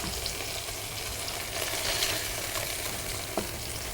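Fish frying in oil in a home kitchen pan, a steady dense sizzle and crackle with occasional sharper pops, continuous and close with no talking.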